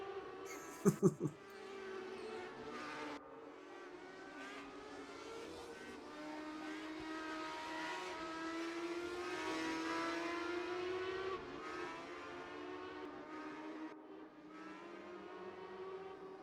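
An MX5 race car passes on the track, its steady engine drone rising and falling across the whole stretch, with a brief sharp knock near the start and a dip before the drone resumes; no voices.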